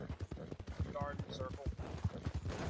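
Horse hooves clip-clopping in a video game, rapid repeated hoof knocks under excited talking and laughter.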